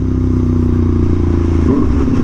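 An Aprilia Tuono V4 Factory motorcycle engine idles with a steady low rumble and rhythmic putter, close and loud, its pitch wavering near the end as the throttle shifts.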